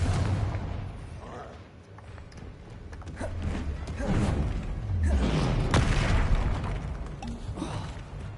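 Fire spell explosions cast during combat in the video game Hogwarts Legacy: repeated booming, crackling blasts over a dense, noisy battle bed of game effects, loud and continuous throughout.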